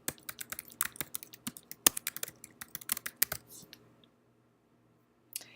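Close, quick keystrokes clatter on a computer keyboard as a user ID and password are typed, an irregular patter of clicks that stops after about four seconds, followed by one final tap.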